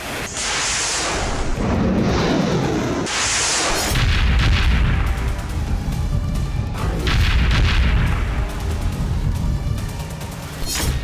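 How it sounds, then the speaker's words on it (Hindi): Several heavy booms and blasts in quick succession from a missile attack on a Greek ship, loud and rumbling, with a roaring, crackling background between them and no voices. "एक साथ कई धमाके हुए"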